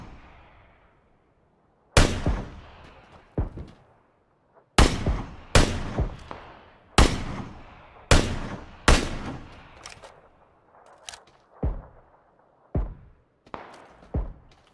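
Gunfire in a first-person shooter video game: loud, close single shots and short bursts ring out at irregular intervals, each sharp crack followed by a quick decaying tail, with no talk.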